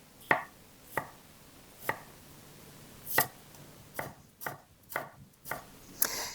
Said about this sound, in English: And we're just gonna mince this.